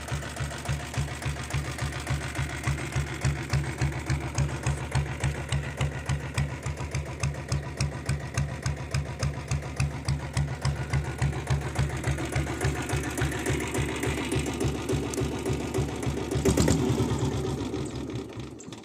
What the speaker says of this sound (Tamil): வண்டி ஸ்லோ ஸ்பீடில் பக்கா ஓடும் ஃப்ரெண்ட்ஸ்